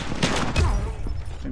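Gunfire from a shotgun in the mobile shooter game Call of Duty Mobile, several loud close blasts in quick succession with someone speaking faintly underneath.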